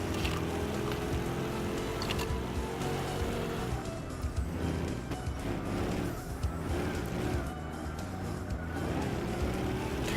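A car accelerating hard through long gears in Gran Turismo 6, its engine drone loud and continuous throughout with tire and road noise, no talk over it.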